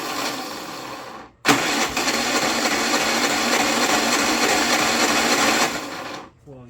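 A Predator 3500 watt inverter generator is cranked and briefly runs, a loud rough mechanical roar that cuts out, restarts and holds for several seconds before dying away.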